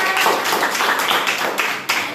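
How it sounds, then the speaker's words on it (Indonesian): A classroom of students clapping for a classmate, a short close burst of quick, dense claps lasting about two seconds. "kasih tepuk tangan untuk Savana."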